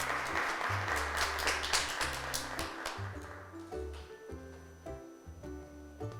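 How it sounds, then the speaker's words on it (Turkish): A studio audience on a children's programme claps to welcome a child guest to the microphone, the applause fairly soft and fading under lingering background music. "Arkadaşımız Cemre'yi alkışlarla mikrofona çağırıyoruz"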